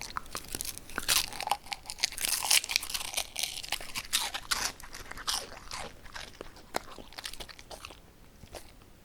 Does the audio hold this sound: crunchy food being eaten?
yes